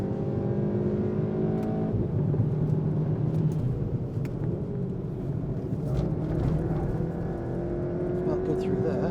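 Race car lapping a track during a tyre test on Vitour Tempesta P1, Yokohama Advan A052 and Nankang CR-S tyres; a steady, loud engine drone rises and falls with throttle, with a voice talking over it.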